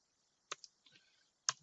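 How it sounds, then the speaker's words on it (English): Typing on a computer keyboard during a Python programming lesson, heard as a few sparse, faint key clicks with a louder tap near the start and another near the end, and no talk. "I'm going to type it in myself."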